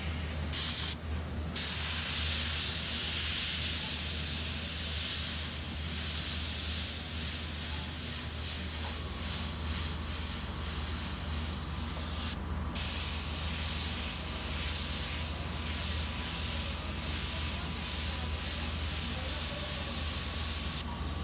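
Airbrush spraying paint onto a t-shirt, a loud, close, continuous hiss that holds steady for a long stretch, with a couple of very brief breaks and no voices.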